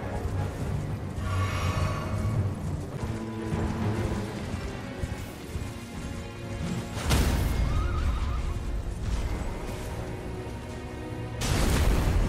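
A horse neighs loudly over a dense, rumbling Elden Ring soundtrack, with heavy booms and crashes breaking in partway through.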